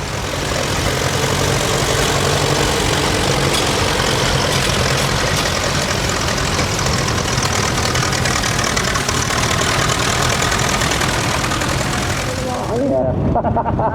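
A heavy tractor engine idles loudly and steadily with a deep, rumbling drone, close by at a steam and country fair, cutting off near the end.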